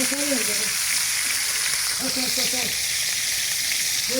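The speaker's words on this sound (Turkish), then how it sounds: "kara tavaya koyduk balıkları cızırtıyı duyuyor musunuz ya?" Scorpionfish sizzles steadily in a hot black frying pan, a dense continuous crackle, with brief bits of voices talking over it.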